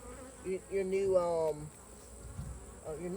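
Honey bees from an apiary colony buzz nearby, a steady droning hum with a louder swell in the middle, briefly mixed with a faint voice.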